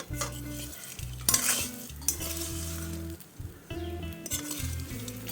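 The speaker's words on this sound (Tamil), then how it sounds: "இதை மிக்ஸ் பண்ணிட்டு இருக்கும் போதே கொஞ்சமாக நான் வந்து எண்ணெயும் சேர்த்துக்கிறேன்" Rice flour and grated carrot mixture is stirred in an oiled pan, with repeated close metallic scraping and clinks of a utensil against the pan over a faint sizzle, no talking.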